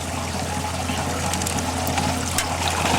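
Water flows steadily through a small gold-prospecting sluice fed from a screen separator, a continuous close rushing trickle over a low steady hum with no pauses.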